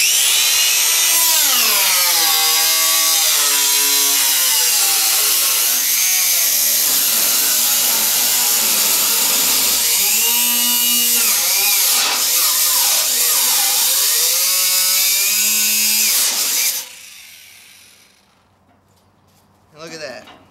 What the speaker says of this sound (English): you can go forward and backward with the cutoff tool.